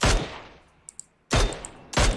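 Three sharp bursts of gunfire in PUBG Mobile, each a loud broadband crack with a short tail, separated by brief gaps.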